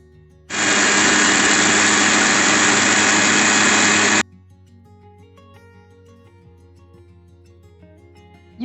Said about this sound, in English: Transfer it to a mixer jar and grind it to fine powder.